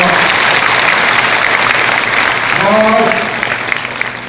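An audience at a motivation class in Parigi, Vikarabad district breaks into dense, loud clapping that fills the room, then thins out as a voice begins near the end.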